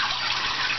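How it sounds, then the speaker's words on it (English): Small waterfall trickling inside a caiman aquarium cage, a brief, steady splashing gush of water, close and even, with no talking. "The little waterfall."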